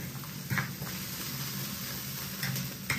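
Green beans sizzle after going into a home wok for a braised pork rib and bean dish, a soft steady frying hiss with a few faint stirring clicks near the start and end.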